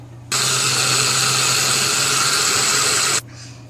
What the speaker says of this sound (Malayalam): ഇനി അരിയും കുറച്ച് കുറച്ചായിട്ട് ആട്ടിയെടുക്കാം.